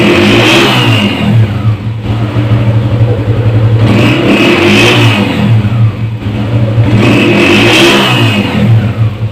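A loud 1982 Honda CG 125 motorcycle engine runs steadily, revving up and easing off in repeated surges, close and continuous with no talk.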